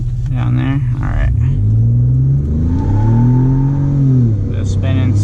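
A tuned Ford F-150 EcoBoost pickup accelerates hard down a road, its engine a loud, continuous roar that climbs in pitch through the gears, heard up close from inside the cab.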